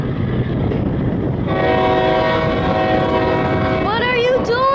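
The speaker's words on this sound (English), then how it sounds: "That's a BNSF." A BNSF freight train rumbles past at close range and sounds its horn, a loud sustained multi-tone blast over the rolling rail noise, bending in pitch near the end.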